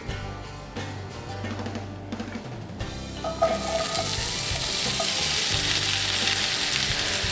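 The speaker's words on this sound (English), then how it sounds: "We'll throw it in a pan with a little oil" Zucchini and onions hit hot oil in a Lodge cast iron pan and break into a loud, steady sizzle of frying vegetables, with a few clatters from the pan at first.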